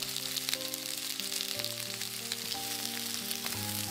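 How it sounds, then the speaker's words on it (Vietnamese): Shallots frying in oil in a pan as the base for a shrimp-shell seafood noodle broth, a loud, continuous close sizzle with faint crackles and no talk. "Mình chiên lên cho hành nó thơm thiệt là thơm."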